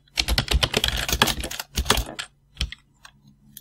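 Rapid bursts of keystrokes on a computer keyboard while writing web-page code on a Raspberry Pi, close and clear, thinning into a few scattered taps at the end.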